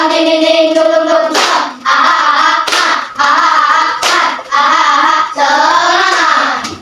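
A school class chants loudly together, with sharp group claps landing at regular intervals in a rhythmic spirit clap.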